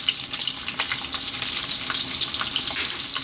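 Chopped onion and ginger sizzle steadily in hot sunflower oil on high heat, a dense, close crackle with faint stirring scrapes throughout.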